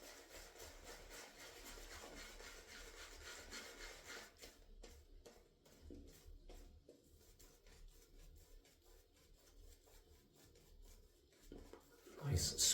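Shaving brush scrubbing lather on mentholated shaving soap, a soft, close, continuous rubbing and scratching that turns more uneven and wet toward the end, with a louder handling bump at the close.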